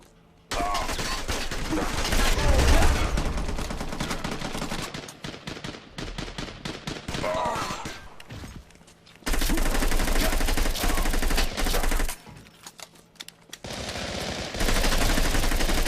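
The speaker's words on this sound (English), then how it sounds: "Here I'm spawning with an SMG just to show you guys a little bit of the different guns here." Submachine gun fire in the online shooter Rekoil, loud rapid automatic bursts close up, several sustained volleys broken by short pauses, with clattering reload and movement sounds between them.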